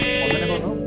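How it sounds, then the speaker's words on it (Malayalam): Minecraft sheep bleating in the video game, a short loud wavering baa heard once, close and clear over a faint background. "5 ആട്"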